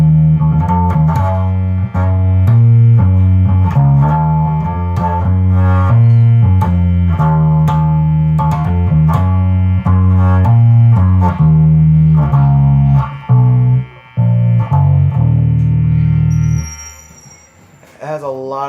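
Epiphone Goth Thunderbird electric bass played through the neck pickup with the tone control turned fully up, giving a loud, continuous run of plucked notes with a bright, fizzy edge and faint pickup hum, alone and ending in a few sparser notes.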